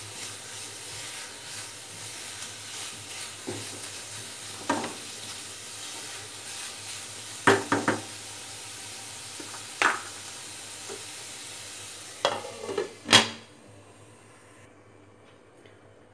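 Jaggery filling for Goan patolya cooks in a covered pan with a steady low sizzle and simmer, broken by a few scattered clinks and knocks of the lid or spoon, with no talking.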